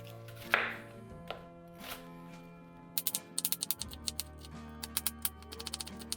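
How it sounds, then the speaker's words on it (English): A kitchen knife chops garlic and shallots on a board with a scattered few knocks, then quick rapid rhythmic strikes, close-up over faint background music. "we have to cut up our garlic and shallots"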